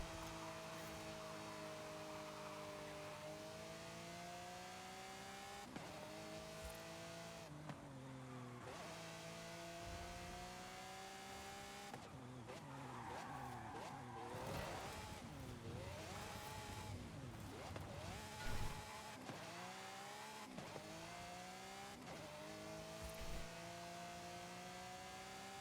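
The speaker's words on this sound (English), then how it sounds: "I guess at least we get the motor sounds" Car engines in the racing game Forza Horizon 5 rev and shift through gears, rising and falling tones repeating over a cruise with occasional tire noise, moderately quiet and steady.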